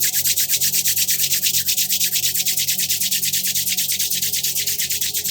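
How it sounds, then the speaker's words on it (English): Palms rubbed briskly together to build heat, a fast steady rhythmic swishing friction, close and loud, with no talking. "begin to rub the palms together,"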